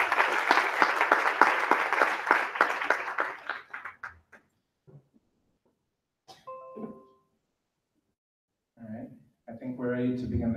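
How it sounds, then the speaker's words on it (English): Concert audience at a Carnatic music performance applauds the accompanist, a dense burst of clapping for about four seconds that thins and fades out, followed by silence, a few faint sounds and someone speaking. "Please give him a round of applause."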